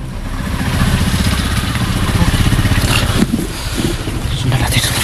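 A motorcycle engine drones steadily on the road, loud and close, with wind buffeting the microphone throughout and the engine note rising briefly near the end.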